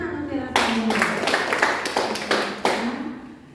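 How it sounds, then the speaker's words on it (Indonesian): Applause for a participant named Mutiara Sabono at a PEKERTI training session, a burst of hand clapping from a small group in a room lasting about three seconds with a few stronger claps near the end. "beri tepuk tangan Mutiara Sabono"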